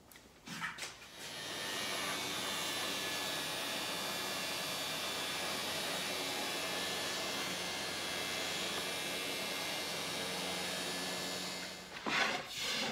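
A Ridgid power sander fitted with 80 grit paper works across a wooden table top, a loud, steady whir that starts up, runs evenly for about ten seconds, then winds down.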